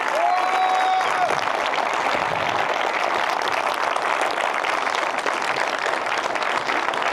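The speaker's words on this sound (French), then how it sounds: "Et elles aussi, on les applaudit s'il vous plaît" A cinema audience applauds loudly and steadily, many hands clapping in a dense, continuous wash with a few whoops near the start.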